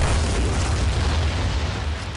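A loud explosion sound effect, a sustained deep boom and rumbling roar that fills the whole moment and fades only slightly, with no talk.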